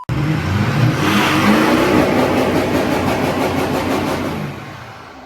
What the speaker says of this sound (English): I want to see you spank limiter in this right now, not just tickle it.